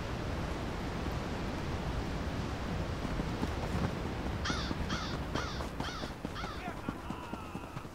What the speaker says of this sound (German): wenn ich schon wieder Krähen höre